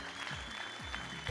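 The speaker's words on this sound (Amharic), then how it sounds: "እዚህ አጨብጭቡ ለጌታ ክብር" Church congregation clapping during a worship service, a steady dense patter of many hands filling the short moment.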